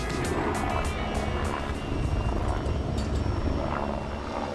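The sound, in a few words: rescue helicopter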